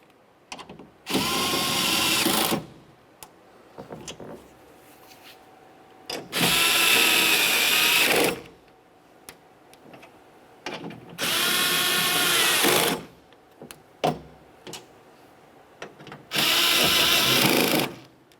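A power drill tightens window regulator mounting bolts on a 2005-2010 Chevy, four loud whirring bursts of about one to two seconds each, separated by quiet pauses with light clicks and handling sounds.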